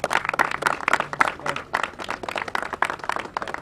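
An audience claps steadily at a community event honoring the Peaceoholics anti-violence group, a dense, moderately loud ripple of hands sustained throughout with a faint voice underneath.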